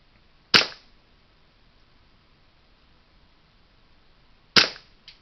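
Two sharp airsoft gun shots fired during target practice, about four seconds apart, each a crisp snap with a short ring-out and a faint extra tick after the second, alone against a quiet background.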